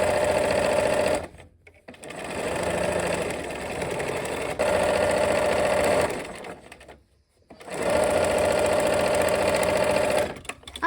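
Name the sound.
sewing machine sewing a quilt block seam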